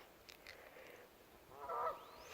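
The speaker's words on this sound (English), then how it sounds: "those geese are still over there." Geese give a few faint, distant honks outdoors, with a slightly louder, fuller call near the end over quiet background noise.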